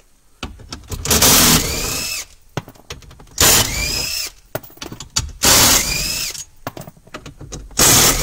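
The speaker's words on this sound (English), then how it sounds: "We're going to remove the 10 millimeter bolts from the protection plate." A power tool driving out 10 millimeter bolts from the protection plate of a 2011-2016 Kia Sportage: three loud, close bursts of whirring with a rising squeal, separated by brief pauses and rattling handling noise.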